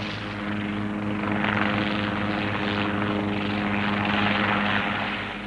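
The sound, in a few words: helicopter flying over island of Syra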